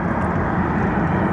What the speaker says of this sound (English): looks like the chopper is going north